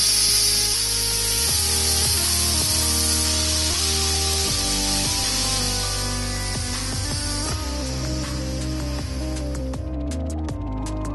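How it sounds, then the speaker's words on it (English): Air hissing out of the loosened release valve on a resin pressure casting chamber, a loud, continuous rush that holds steady for several seconds before thinning out, with a faint mechanical hum underneath. "you just loosen the release valve. And you can hear the air rushing out there and the pressure on the gauge is beginning to fall"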